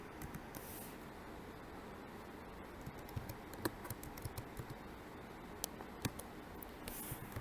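Quiet, continuous keyboard typing with irregular patters of key clicks and a few sharper taps, close by and alone without talking.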